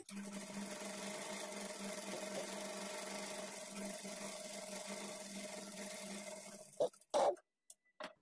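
A sewing machine runs steadily, stitching a lace trim onto the edge of a high-neck blouse, with a close, continuous whirring drone for several seconds before it stops, followed by a few sharp clicks and handling sounds.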